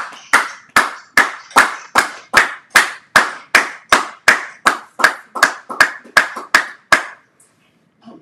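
A congregation at a church service claps in a steady rhythm of about sixteen sharp, close beats, each evenly spaced, ending abruptly in silence.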